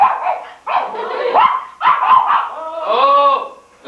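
A dog barks and yelps loudly and close by in repeated, sustained bursts with brief pauses, alone without talk.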